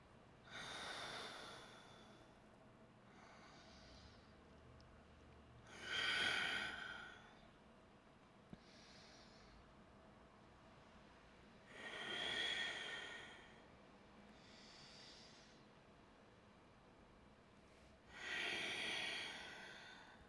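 Slow, deep breaths during a gentle yoga lizard pose, with three long airy exhales spaced evenly and softer inhales between, faint and close over a quiet room.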